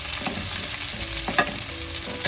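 Curry leaves and green chillies sizzling and crackling in hot oil in a pan for tin fish curry, a steady close frying hiss with small pops and stirring scrapes.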